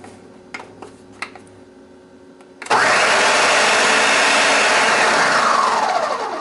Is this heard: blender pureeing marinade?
yes